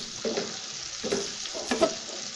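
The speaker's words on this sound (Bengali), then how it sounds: "তেলটা গরম হয়ে এসেছে, আমি এখন দিব পেঁয়াজ আর কাঁচামরিচ কুচি।" Chopped onion and green chili hit hot oil in a pan for a tilapia fish curry, a soft sizzle with a few quiet stirring scrapes spaced through it.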